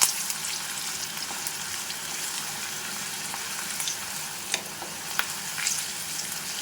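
Dried red chilies roasting in hot oil with a pinch of asafoetida, frying for tomato pulihora: a steady, even hiss of sizzling runs throughout, with a few sharper crackles and pops near the end and no voices.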